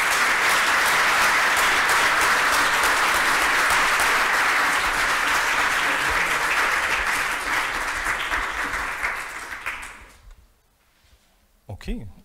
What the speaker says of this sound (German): Einen Applaus nochmal für uns.